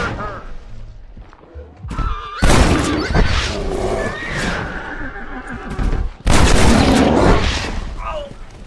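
Loud gunshots boom in Red Dead Redemption as a bear is shot at, two heavy blasts amid a horse's whinny and urgent voices.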